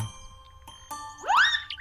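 A house doorbell gives one bright, rising electronic chime that rings close and clear after a few faint knocks, with no voices.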